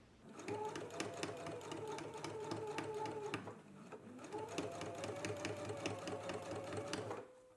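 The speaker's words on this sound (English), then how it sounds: "let's go to the sewing machine and we are going to do a stitch in the ditch" A sewing machine stitches in the ditch along a shirt placket in two rapid, rhythmic runs of clattering needle strokes separated by a short pause, close and fairly quiet.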